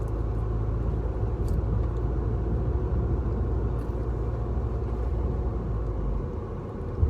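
Steady low engine and road rumble from inside a car cruising on a road, continuous and even throughout with no talking.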